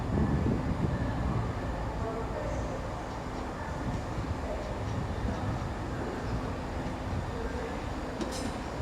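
A Class 166 Turbo diesel train pulls into Exeter St Davids station with a continuous low rumble and rolling wheel noise close by, and a brief high squeal near the end.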